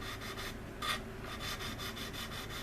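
Emery board sanding stick rubbed over the seams of an Anigrand C-124 Globemaster scale model kit, a soft, rhythmic rasp of quick repeated back-and-forth strokes, close and quiet.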